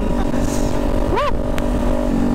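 A Kawasaki Ninja 400 motorcycle cruising on an expressway, its engine humming steadily under heavy wind rush, with a brief rising pitch sweep from passing traffic partway through.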